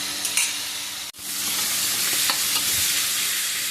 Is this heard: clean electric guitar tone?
no